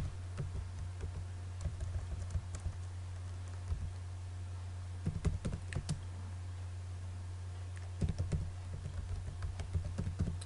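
Typing on a computer keyboard in short clustered bursts of quick clicks separated by pauses, close and fairly quiet over a steady low electrical hum.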